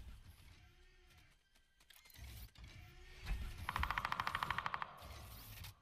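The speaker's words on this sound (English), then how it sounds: "woodpecker sounds like gunshots" A rapid burst of sharp, evenly spaced taps, like a machine gun rattling, from a woodpecker pecking in Overwatch, rises over game sounds and mechanical clicks.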